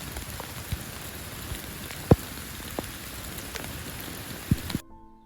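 Hail patters steadily on small young persimmon seedlings, a dense fine rattle broken by a few sharper, louder ice strikes, with no voices.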